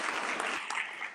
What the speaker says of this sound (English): Hand claps, thank you.